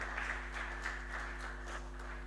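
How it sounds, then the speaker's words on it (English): An audience at an indigenous seeds and food culture harvest fair claps in a faint, steady patter of scattered hands over a low background hum. "Let's clap once again for Dr."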